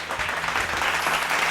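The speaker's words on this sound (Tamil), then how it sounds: "கைத்தட்டுங்க ஒரு தடவை." A Tamil church congregation claps together at a Sunday morning service, a short, even burst of many hands clapping at once, close and fairly loud.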